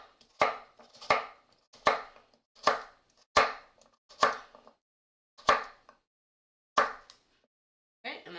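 A knife slices through a halved vegetable laid flat on a cutting board in distinct, close, evenly spaced chops, about eight strokes with short pauses between them, with no talking.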